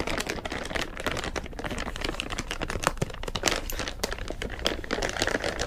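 A plastic Ziploc food-storage bag is pressed shut along its zipper, giving dense, close crinkling and rapid little clicks of the track snapping together, with no voices.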